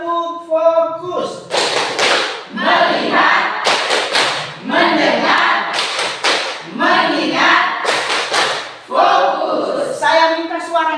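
A school class performs the rhythmic 'tepuk fokus' clapping routine, with loud bursts of group claps in a patterned beat alternating with the children chanting together.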